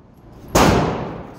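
Single loud gunshot from an AR-15 rifle at an outdoor gun range, a sharp sudden blast followed by a decaying echo.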